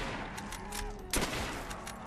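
A single short burst of gunfire from a Black Ops 3 zombies match, faint and brief, rising over a low game soundscape about halfway through.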